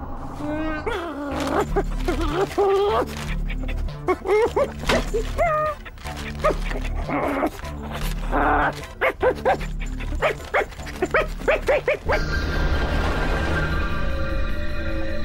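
Barks, yips and whimpers from a cartoon dog in an animated series, repeated in uneven bursts mixed with character dialogue, ending in a steady electronic hum.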